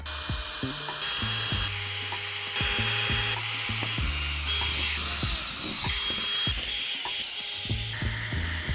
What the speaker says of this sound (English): I'm just chasing the holes with a bigger drill bit